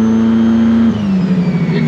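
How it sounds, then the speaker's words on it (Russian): A light aircraft engine revving on a lake to burn off its spark plugs, loud and steady close by, its droning pitch shifting down partway through. "прожигаю свечи"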